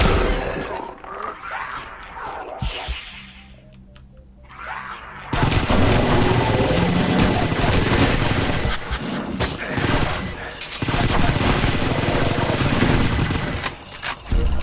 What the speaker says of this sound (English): This is with a plasma rifle.